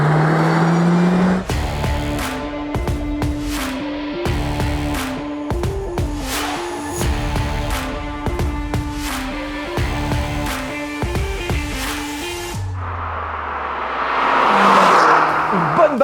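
Mercedes-AMG A45 S, the 400-horsepower petrol hatchback, revs hard over a series of sharp, rising and falling engine bursts, loud and close, with a rumbling idle before and after.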